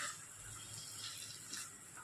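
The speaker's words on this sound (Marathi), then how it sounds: "अर्धा ग्लास पाणी घातले मी" Half a glass of water is poured into frying chicken kheema in a pan, a faint steady trickling splash lasting a couple of seconds.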